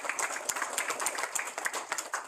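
An audience at a proclamation signing claps briefly, a light scatter of hand claps at moderate distance with no talk over it.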